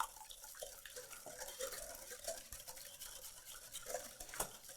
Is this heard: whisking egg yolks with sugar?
yes